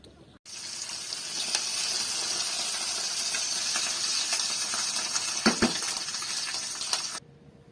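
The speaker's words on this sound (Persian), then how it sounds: "تا من باقالی ها رو پاک کردم، مرغم هر دو طرفش سرخ شد" Chicken pieces frying in a pan in a village kitchen, a steady broad sizzle with steam hiss running unbroken for about seven seconds, with a couple of faint clinks near the end.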